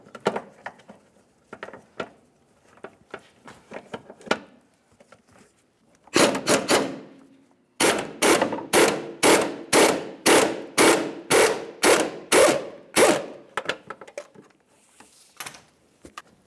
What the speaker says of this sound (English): At this point, I should have enough access to get my 1/2-inch air gun in there and remove this bolt